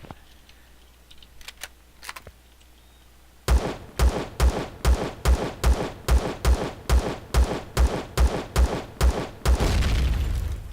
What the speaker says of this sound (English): one whole magazine of the Type 2 pistol to remove the core